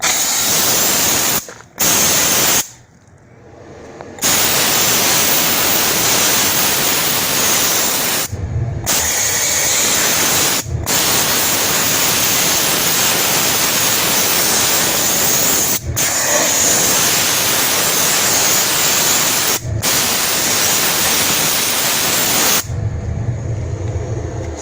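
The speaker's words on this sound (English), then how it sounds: "Grab my handy dandy steamer" A steam cleaner sprays a motorcycle in long, loud hissing bursts broken by several brief pauses, close up and without talk.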